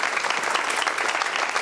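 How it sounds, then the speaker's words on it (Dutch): An audience claps steadily at a university discussion event in Amsterdam, a dense, even wash of many hands throughout with no voices standing out. "Dames en heren, een hartelijk applaus en veel plezier voor Jeroen van der Veer."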